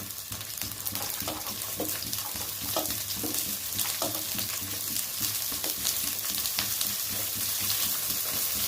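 Small shallots and garlic frying in hot oil for a sardine curry, a dense continuous crackling sizzle with scattered sharper pops and faint stirring scrapes, close and steady throughout.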